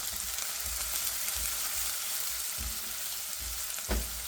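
Frozen curry leaves, sliced onions and green chilies fry in hot oil for Sri Lankan street-style kottu roti, a close, steady sizzle with occasional stirring scrapes and soft low thumps.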